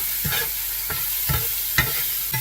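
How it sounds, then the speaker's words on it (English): Browning vegetables sizzle steadily in a frying pan while a utensil stirs them in regular scraping strokes about every half second. "And I just need to make sure that I continue to stir it so it doesn't burn."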